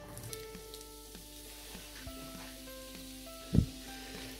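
Onions fry in hot oil in a pan, a faint, even sizzle with soft crackles and one brief louder clunk near the end, with musical tones in the background.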